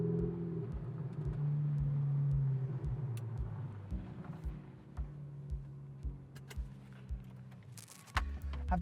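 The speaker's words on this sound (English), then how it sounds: "I can thoroughly recommend spending your Monday mornings in Italy driving a 488 Spider" Ferrari 488 Spider sports car driving on Italian roads, a steady low engine drone that holds, then eases and fluctuates, with a brief whir and bump near the end.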